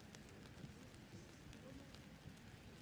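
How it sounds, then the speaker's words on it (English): Rain falling at an outdoor Olympic archery venue in Tokyo, a faint, steady hiss of drops with occasional soft patters. "Perhaps because of the rain, you can now start to hear it falling a little bit more heavily."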